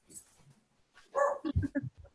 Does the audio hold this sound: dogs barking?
yes